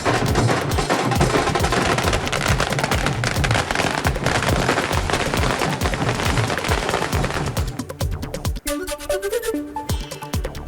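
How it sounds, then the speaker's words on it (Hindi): Fireworks burst at a street celebration in Thane, India, marking Eknath Shinde becoming chief minister, with dense rapid crackling and popping volleys that thin out near the end, loud and continuous, with no talk. "ठाणे में जमकर आतिशबाजी,"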